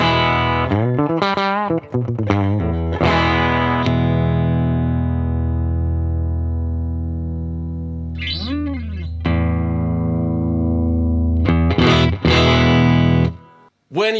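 Electric guitar through a Marshall DSL20CR amp set to 10 watt mode: strummed chords and bent notes, some left to ring and decay for several seconds, loud and close with a slightly driven tone.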